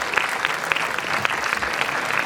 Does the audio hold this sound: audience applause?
yes